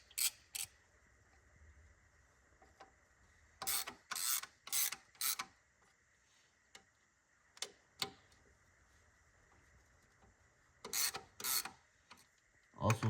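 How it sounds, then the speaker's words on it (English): Bolts on the thermostat housing of a 2014 Chevy 1500 with a 5.3L V8 are worked down evenly, giving repeated bursts of quick ratchet clicks separated by short pauses, close and fairly loud with no talking. "just kind of go around and work them down evenly"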